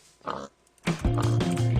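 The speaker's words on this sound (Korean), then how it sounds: "돼지, 돼지 짱 많아." Pigs oinking in Minecraft with the Twilight Forest mod, a short grunt followed by a louder, longer run of close snorting oinks.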